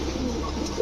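A male Putul Gorra fancy pigeon with a red beak gives a single short, close coo against faint background noise.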